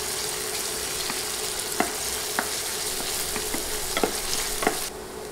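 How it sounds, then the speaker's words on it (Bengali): Chopped onion and garlic fry in hot oil for a thick restaurant-style dal, a constant close sizzle broken by occasional light clicks of a spoon stirring against the pan, with no voices. "নেড়ে নেড়ে পেঁয়াজ ও রসুন 30-40 সেকেন্ড তেলে ভেজে নিব।"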